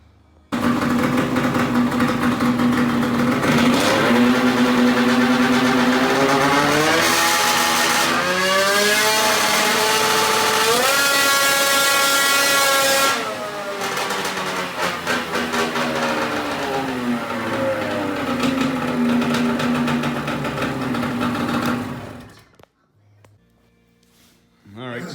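Arctic Cat Crossfire snowmobile engine revving high with no load while held on a stand, a loud sustained whine that climbs and falls in pitch for about twenty seconds before cutting off abruptly near the end.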